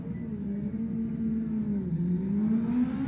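A Yamaha R1 race motorcycle engine idles and revs steadily at the start line of a TT Formula 1 road race, a sustained mid-distance engine drone that rises slightly in pitch toward the end.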